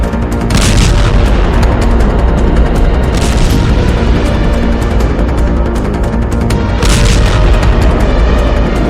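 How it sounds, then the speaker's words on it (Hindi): A top-attack anti-tank missile strikes a tank roof and blows it apart, heard as loud repeated booming blasts with sharp bursts rising above a constant heavy rumble, no voices. "फिर पूरी ताकत से टैंक की छत पर आकर गिरती है, जिससे टैंक के चीथड़े उड़ जाते हैं"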